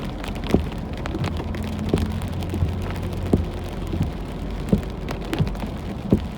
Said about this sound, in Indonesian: Curah hujannya tinggi banget ini.